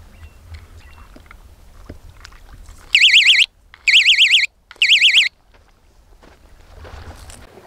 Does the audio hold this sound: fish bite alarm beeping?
yes